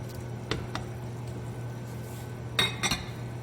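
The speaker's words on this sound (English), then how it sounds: "I'm adding some carrots." Big chopped carrot pieces dropped into a pot of Mexican beef soup with corn: a few soft wet thuds and clinks against the pot, the clearest pair near the end, over a steady low hum.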